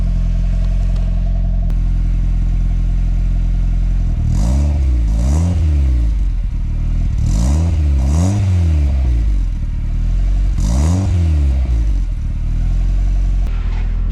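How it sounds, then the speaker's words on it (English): A turbocharged Honda CR-V engine idles, then gets several short, sharp revs in pairs and singles, each climbing and dropping quickly, loud and close in an engine bay with no talking. "Let me try to set you guys up so we can do some little short revs"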